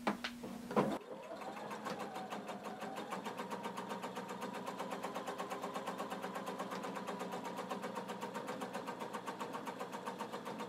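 Sewing machine running a long, loose basting stitch, a few quick clicks and a short buzz, then a steady mechanical chatter of rapid, even stitches carrying on close and uninterrupted for about ten seconds.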